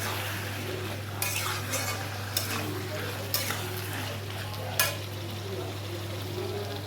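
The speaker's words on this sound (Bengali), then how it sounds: "শুধু মানে তেলের মধ্যে জিরে ফোড়ন দিয়েছি, আর যে নুনটা দিয়ে দিলাম" Cumin seeds and salt crackle in hot oil with a continuous close sizzle, broken by several sharp scrapes from a stirring utensil against the pan over a steady low hum.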